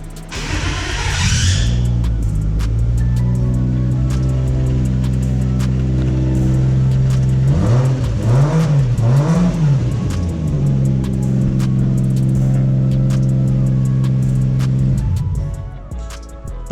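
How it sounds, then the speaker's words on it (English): A Toyota Mark II engine idles close and loud with a steady low hum, rising and falling through a few quick revs partway through before settling back to idle and cutting off near the end. "The car pretty much starts, it drives well,"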